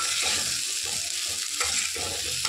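Spice masala with turmeric fries in a pan with a dense, loud, continuous sizzle, broken by rhythmic scraping and stirring strokes, close up and without voices.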